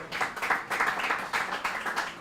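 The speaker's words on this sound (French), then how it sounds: "Applaudissements pour Saint-Michel" A school audience applauds and cheers for the Saint-Michel team at a student competition, with several dense bursts of clapping rising and falling over about two seconds.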